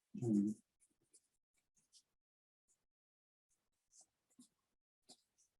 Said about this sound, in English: I'm going to write these things down before I forget them